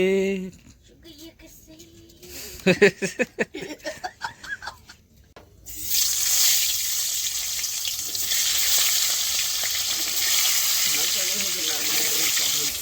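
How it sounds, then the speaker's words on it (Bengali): Duck eggs frying in a pan with a bright, steady sizzle that starts abruptly and runs to the end, after a stretch of people talking and laughing nearby. "আমি এখন ডিম ভাজবো"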